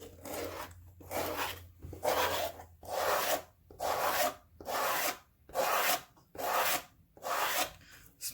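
Leather edge rounded off by hand with a rasping tool, a steady series of about nine close, dry scraping strokes in an even back-and-forth rhythm, alone without talk.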